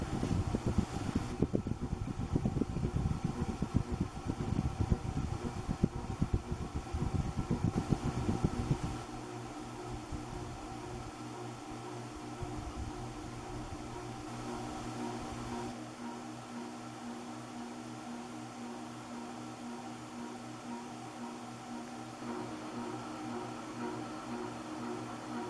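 A 1984 Golden Fan 90 cm ceiling fan turning at medium speed, a steady soft whir with a faint electrical hum; louder rumbling noise at the start fades to an even, quiet drone.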